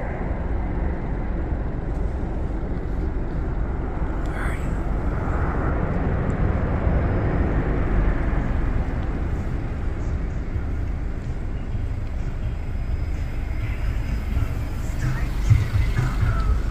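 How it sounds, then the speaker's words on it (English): A jet airplane roars steadily at a distance as it takes off from Burbank Airport, a broad rumbling wash of engine noise that holds for the whole stretch. "you'll see some planes take off"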